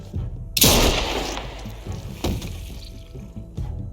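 A loud gunshot fires in a tense standoff in The Walking Dead: A New Frontier video game, a sharp close blast followed by a decaying rumble, with a softer second shot and thuds after.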